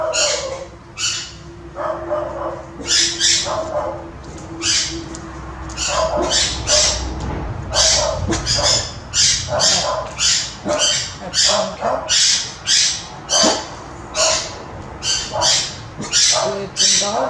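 Birds screech loudly and repeatedly nearby in sharp, rhythmic bursts, mixed with dogs barking, forming a busy, continuous din. A person speaks briefly underneath.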